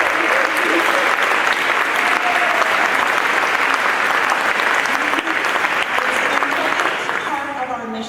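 Audience at a brass conference breaks into a full, dense round of applause that stays loud and sustained before thinning slightly at the end.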